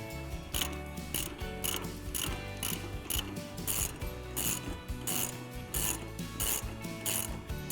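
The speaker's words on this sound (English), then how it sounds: "So if I get my spanner onto there," A spanner ratchets as it tightens bolts, a quick run of close metallic clicks repeating in bursts, with no talking.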